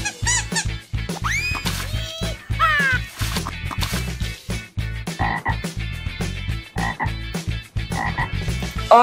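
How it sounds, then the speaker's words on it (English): A toy frog croaks repeatedly over bouncy electronic kids' music, a steady run of loud, close croaks and squeaky calls with no talk. "Green frog."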